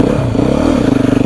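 A Beta motorcycle engine throbs loud and close in a steady pulsing drone while the rider struggles with a shifter sticking in first gear, with no talk.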